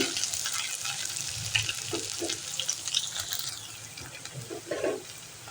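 Chopped onion fries in a pan, a close, continuous sizzle with scattered crackles and the scrape of stirring that comes and goes.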